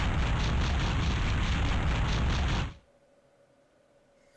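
Explosion in the video game Final Fantasy IV: a loud, dense roar of noise that holds for under three seconds, then cuts off abruptly to a faint background hum.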